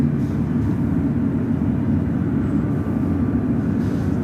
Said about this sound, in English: Have a Delta 767 now pushing back.